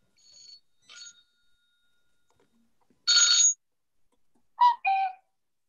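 Outdoors in chilly weather, a mobile phone sounds a few short electronic chime bursts, irregularly spaced and moderately loud, separated by near silence.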